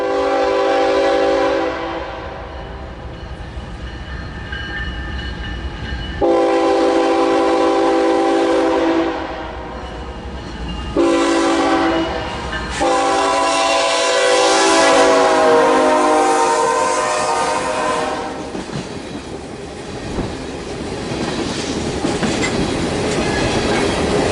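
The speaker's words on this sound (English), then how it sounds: "here's a sample of what the K5h L sounds like" Nathan K5HL high-mount train horn sounding in several loud sustained blasts with brief breaks between them, a bright multi-chime chord, with no talking.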